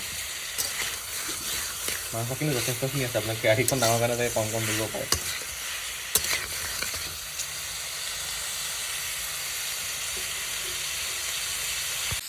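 Pork with a few dried red chilies frying in a wok over reduced flame: a constant sizzle with brisk stirring and scraping, while someone talks in the first half before the frying continues on its own.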